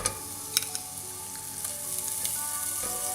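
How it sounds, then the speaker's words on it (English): Butter sizzles steadily in a preheated pot, a continuous crackling fry with a few brief pops near the start and no voices. "in my preheated pot, I'm going to add butter"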